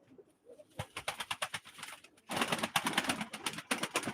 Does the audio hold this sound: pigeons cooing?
yes